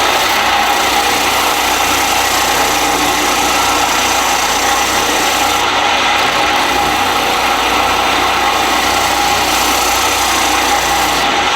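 A spindle sander in a school woodshop runs alone, giving a loud, steady motor hum with an even abrasive whir that holds constant throughout, with no voices.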